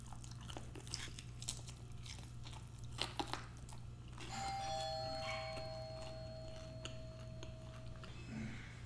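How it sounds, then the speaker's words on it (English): A house doorbell rings, its clear sustained chime ringing out for several seconds mid-clip, preceded by close crunchy chewing and bites at a meal of chicken wings; no one speaks. "came in the door, rang the doorbell"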